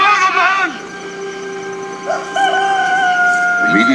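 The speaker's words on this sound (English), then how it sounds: "Immediately, a rooster crowed." A rooster crows several times in a church sermon recording, loud drawn-out tonal calls that rise and fall, close and clear with no talking.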